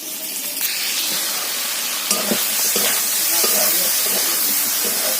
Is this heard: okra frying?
yes